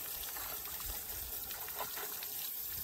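Tap water runs steadily nearby for cleaning up after family apple cider pressing, a continuous gushing splash at moderate distance.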